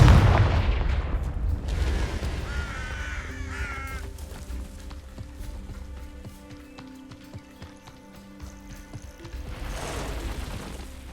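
A Confringo fire spell in Hogwarts Legacy erupts with a loud opening blast, then crackling impacts and tonal game effects ring out over a sustained hum, ending in another swelling burst.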